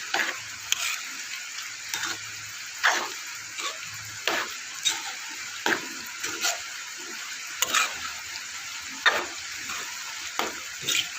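Beef liver roast is stirred in a pan, with about a dozen sharp scraping strokes at an irregular, unhurried pace over a faint, steady sizzle, close up.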